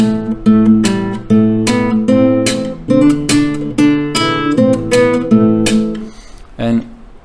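Fingerstyle acoustic guitar picking a steady pattern, with a percussive body slap landing on the second and fourth beats; close, loud and rhythmic, ringing out alone before a final struck chord.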